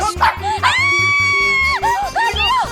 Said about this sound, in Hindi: दूर कर, तुम्हारे डॉगी को दूर करो